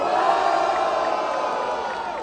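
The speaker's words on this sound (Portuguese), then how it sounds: "barulho quem gosta das rimas de JP" A packed crowd at a São Paulo street rap battle semifinal roars and shouts in a continuous loud wall of cheering, with no single voice standing out.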